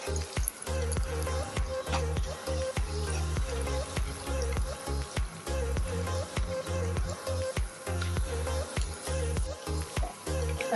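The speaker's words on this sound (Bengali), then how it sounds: "আমি রোলগুলো এপিট ওপিট করে ভেজে নিচ্ছি" Vegetable egg spring rolls fry in hot oil in a frying pan, a steady close sizzle with rhythmic crackling bursts and spatters running throughout, with no talking.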